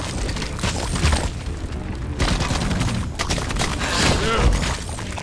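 Bulldog revolver firing Elephant Rounds in Deep Rock Galactic: loud, heavy booming shots amid dense combat noise and shattering impacts, with a voice talking over the fire.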